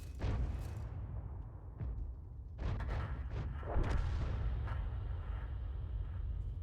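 A tank gun firing standard HE shells in the World of Tanks video game, with the FV3805 on the Oksydor map: several heavy booms over a constant low rumble, each shot followed by a short burst of noise.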